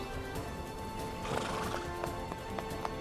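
Horse named Altutan neighing with hooves clip-clopping in an outdoor setting, a whinny rising midway over steady close hoofbeats and ambient background noise.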